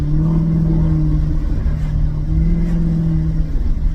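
A Maserati GranTurismo S engine with a stage 1 remap hums loudly at close range, its pitch swelling and easing as it is revved, with no talking.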